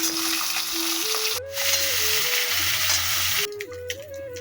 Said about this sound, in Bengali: আর এইখানে এই যে মাছ ভাজছে